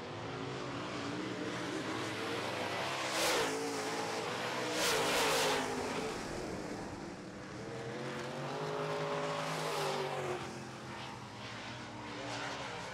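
Late model race cars run a heat race on an oval track, a continuous engine roar that swells and fades as cars pass, with several distinct louder sweeps of a car going by, heard from a distance.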